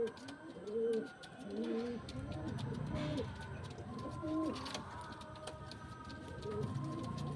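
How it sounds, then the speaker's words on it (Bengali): A male pigeon in a home loft gives repeated low, throaty coos in short rolling phrases, close and clear over a soft background hum, with faint clicks. "এটা নর পায়রা আছে"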